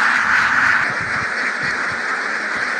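Ducks quack continuously in a dense, loud chorus at a duck farm on the bank of the Dhaleshwari river, the calls overlapping into a steady near wall of sound.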